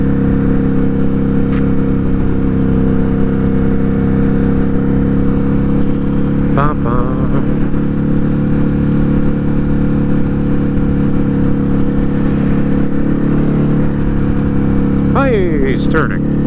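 Ducati Hypermotard 950 RVE motorcycle engine droning steadily while riding, a continuous close rumble with brief rising revs near the end, no talk over it.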